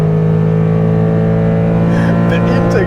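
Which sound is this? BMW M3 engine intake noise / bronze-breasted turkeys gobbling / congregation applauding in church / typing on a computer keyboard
BMW M3 engine intake noise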